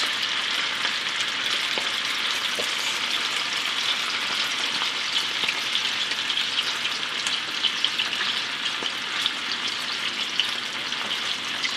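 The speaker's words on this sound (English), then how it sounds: "I will fry them on a medium heat" Steady, dense sizzling of sausages frying in a pan over medium heat for currywurst, continuous and close, with faint crackles and pops throughout and no talking.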